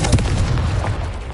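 A spell-cast explosion in the game Hogwarts Legacy, a loud, dense blast with a heavy rumbling boom that stays close and fills the whole moment.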